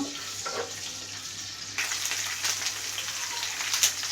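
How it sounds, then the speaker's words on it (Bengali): Ginger garlic paste sautés in hot oil in a pan for a chicken roast, a soft close sizzle that turns brighter and louder partway through, with faint stirring scrapes. "এবার এর মাঝে দিয়ে দেব আমি 1 টেবিল চামচ আদা রসুন পেস্ট। এটাকে একটু কষিয়ে নেব"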